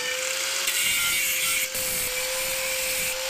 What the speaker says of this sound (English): I'm going to cut roughly how much of the inner 1 inch pipe I'm going to need